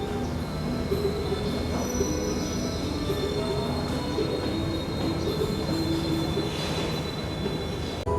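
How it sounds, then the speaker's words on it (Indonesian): Taksaka Malam passenger train running steadily, wheels rumbling and squealing on the rails with a continuous loud roar and faint clatter throughout, no voices. "keretanya akan melanjutkan perjalanan menuju ke stasiun Surabaya Gubeng."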